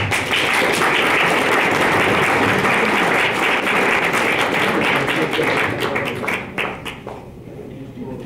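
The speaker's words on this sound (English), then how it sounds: "So give Mike a round of applause and thank him for coming." Sustained audience applause at a Republican candidate forum, dense and loud for about six seconds before thinning and fading toward the end, with a voice briefly audible underneath.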